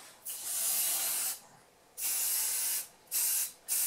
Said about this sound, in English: you can take spray paint, and this is another spritz,